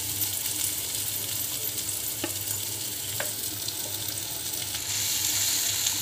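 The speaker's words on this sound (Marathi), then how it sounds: "गवार आपण टाकून घेतली तेलामध्ये." Cluster beans (guar) fry in hot oil, giving a steady, close crackling sizzle throughout with a few sharper pops and a faint stirring scrape.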